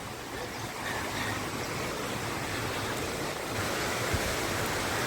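Kapildhara waterfall on the Narmada River at Amarkantak roars as a steady, dense wash of falling water, loud and unbroken throughout with no voices.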